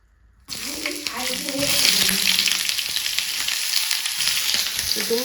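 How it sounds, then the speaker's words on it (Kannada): Onions sizzling in a hot pan over a low flame, a steady frying hiss rising after a brief silent start, with faint stirring and clinks and some low voices in the background. "ಇವಾಗ ಇದನ್ನೆಲ್ಲ ಉಂಟಲ್ಲ ಸ್ವಲ್ಪ ಫ್ರೈ ಮಾಡ್ಕೊಳ್ಬೇಕು ನಾವು, ಲೋ ಫ್ಲೇಮಲ್ಲಿ ಇಡುವ."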